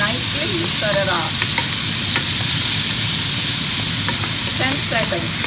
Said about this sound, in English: you get some garlic. Fresh or like this. And saute everything.